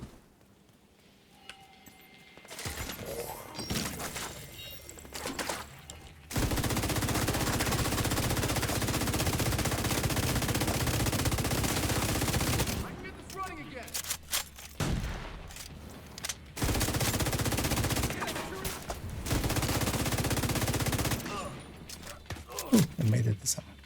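Video game shotguns fire in long, dense bursts of loud, close blasts, broken by quiet stretches where someone talks.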